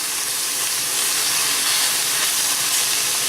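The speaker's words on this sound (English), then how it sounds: "So I'm just going to brown the meat" Beef brisket browning in a pan, giving a steady, bright, close sizzling hiss that holds constant throughout.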